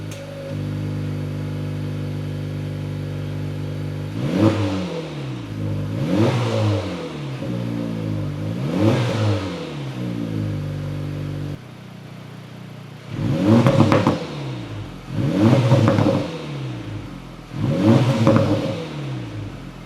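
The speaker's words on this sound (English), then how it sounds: "Maybe we should let them hear what this thing sounds like first before." A 2024 Acura Integra Type S on its stock exhaust idles, then revs repeatedly in six sharp bursts, each climbing and falling back, with the final three louder and close up.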